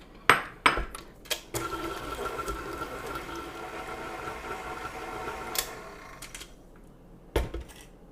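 Brown sugar, applesauce, peanut butter and eggs are blended together in a bowl, giving a steady whirring mix with a few sharp clanks and knocks at the start and end.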